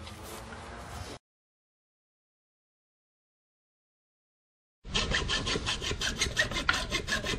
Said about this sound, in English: Cutting SDR 35 with a hacksaw takes a little bit of work because it doesn't go all the way through